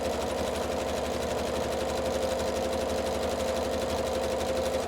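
A sewing machine runs a zigzag stitch with invisible thread, a loud, even, rapid mechanical whir and needle clatter that holds steady throughout, close by with no talking.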